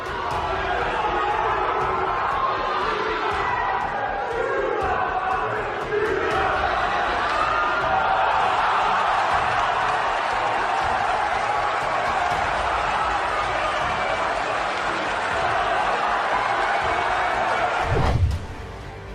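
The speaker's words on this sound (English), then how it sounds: "check out how the older man reacts as the crowd starts to chant at him over his weight" A large crowd at a professional fight chants and roars continuously at an older fighter over his weight, a dense, loud wash of voices that persists throughout and ends in a brief thump.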